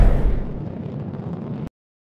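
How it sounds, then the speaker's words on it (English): A missile strike blowing up a building in the Air Supremacy 2 jet combat game: a loud, broad explosion that bursts at once and then rumbles steadily before cutting off abruptly. "Missile locked. Building destroyed."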